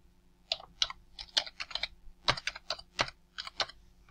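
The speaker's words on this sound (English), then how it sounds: "type in your email address" Fingers type an email address on a computer keyboard, a quick run of sharp plastic key clicks in irregular bursts with short pauses, close and clear in a quiet room.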